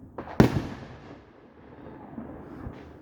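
A single sharp Fourth of July firework bang cracks out, then a rolling echo and faint crackle fade over the next few seconds before a softer distant pop.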